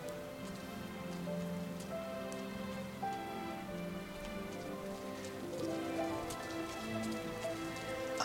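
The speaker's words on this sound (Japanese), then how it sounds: "雨が止まない。" Steady rain falls throughout a scene in the video game Rime, a dense even patter with faint tonal game sounds underneath and no talking.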